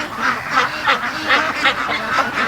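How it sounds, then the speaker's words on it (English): Several ducks quack in a steady, repeated rhythm at a home pen among hatching ducklings, moderately close and clear with no talking. "Oh, there's marble duck."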